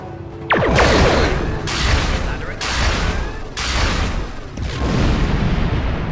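Video-game weapons blast at an asteroid in a Star Trek game, loud repeated bursts of heavy booming fire with short gaps between volleys, close and filling the scene.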